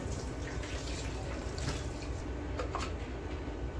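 Fish being washed under running water, a steady close splash and trickle with brief drips and handling noises throughout.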